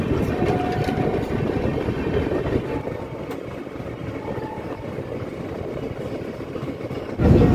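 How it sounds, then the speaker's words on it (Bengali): AC express train running after leaving Nabadwip Dham station, a continuous rolling rumble with faint rhythmic clatter, steady and moderately loud, with a sudden louder surge at the very end. "11:53 ট্রেন নবদ্বীপ স্ট্যান্ড ছেড়ে দিল।"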